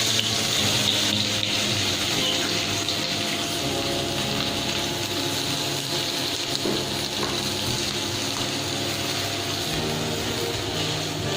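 Onions frying in a little oil in a second pan for chilli idli make a continuous, loud, even sizzling hiss that runs unbroken throughout, with no talk.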